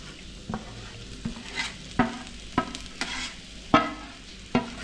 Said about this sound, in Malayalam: ഇനി ഇതിലേക്ക് നമുക്ക് അരച്ച് വെച്ചിട്ട് നമ്മുടെ അരപ്പങ്ങ് ചേർത്ത് കൊടുക്കാം